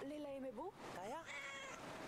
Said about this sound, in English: Oh, look at the little kitty.